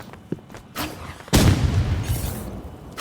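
A Roblox grenade goes off in one loud boom that rumbles away, after a few faint clicks and thuds.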